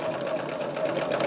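A sewing machine stitches a scrap fabric project, a steady close mechanical whir with a fast even hum and no pauses.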